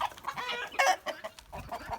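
Backyard chickens, a young rooster among them doing his courting dance, cluck and squawk in short bursts close by, busy and uneven over two seconds.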